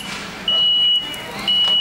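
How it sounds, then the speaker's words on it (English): A vehicle reversing inside a Home Depot store gives two steady electronic beeps about half a second each, separated by a short gap, over a low background hum. "I just needed you to back up and get the beeping noise."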